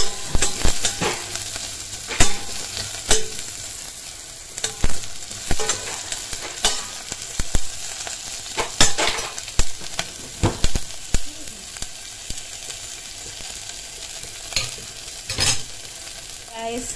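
Aromatics frying in a little oil in a pan for Japanese curry, with steady sizzling and repeated sharp scrapes and clacks of stirring throughout.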